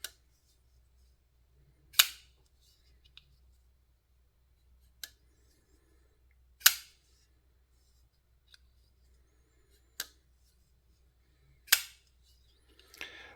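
A Kubey Anteater folding knife is flicked open and snapped shut, giving about five sharp, crisp clicks spaced a couple of seconds apart in near silence, with a few fainter ticks between them.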